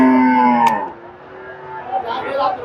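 A Friesian dairy cow at a crowded cattle market gives one long, loud, close moo that fades out, followed by murmuring market background noise.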